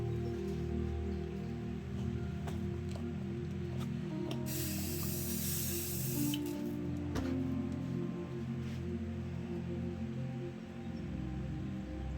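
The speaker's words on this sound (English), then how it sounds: "I'm just going to spray some more white on this paper here" White spray paint hissing steadily from an aerosol can onto paper for about two seconds in the middle, with faint clicks and handling noise around it and a low steady room hum underneath.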